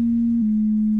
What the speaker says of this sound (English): we have a VCO with just a sine wave going directly to our mix channel